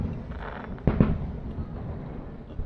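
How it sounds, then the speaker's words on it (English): Fireworks bursting over Mackinac Island, heard from the dockside, with one sharp heavy boom and a second close behind, then distant rumbling and crackle trailing off, with no talk. "There's dueling fireworks here."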